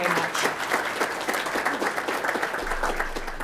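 Community veterans at an appreciation day event applaud themselves, with a crowd clapping steadily and fairly close for several seconds.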